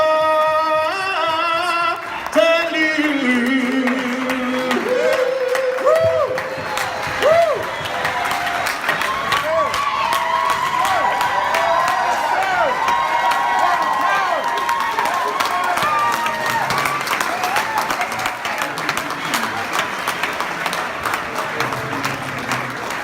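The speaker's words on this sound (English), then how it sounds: "Give him one more round of applause." An audience at a hometown performance event breaks into sustained applause with scattered cheers and whoops, a dense wash of clapping that continues steadily after a brief opening of musical tones.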